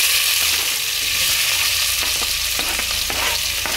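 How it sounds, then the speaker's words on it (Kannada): Onions fry in hot oil with cumin, bay leaf and spices for vegetable masala pulao, a loud, constant close-up sizzle with a few scraping stirs cutting through. "ಇವಾಗ ಇದಕ್ಕೆ ಈರುಳ್ಳಿ ಹಾಕಿ ಡೀಪ್ ಫ್ರೈ ಮಾಡ್ಕೊಳ್ಳಿ."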